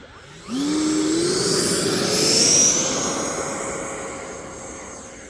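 An RC model airplane's electric motor whines up sharply as it lifts off, then eases back to a steadier, slightly falling drone as the throttle is cut, fairly loud and close with no talk.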